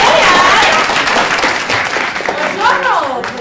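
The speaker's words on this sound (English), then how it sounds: "So let's clap our hands." A live audience at an evening show claps its hands, a dense, steady wash of applause with voices and cheers mixed in throughout.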